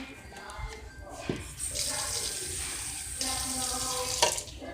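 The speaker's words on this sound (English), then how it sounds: "And just add the water." Tap water runs steadily into a pot for Mexican white rice, a close, continuous splashing rush with a couple of brief knocks.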